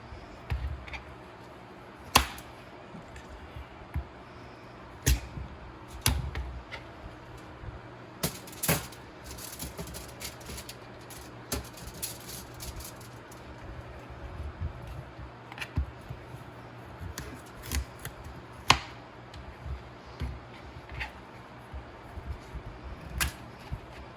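A knife cutting a carnival squash with its stem still attached, heard as scattered sharp clicks and knocks of the blade on the hard gourd and board, separated by quieter pauses.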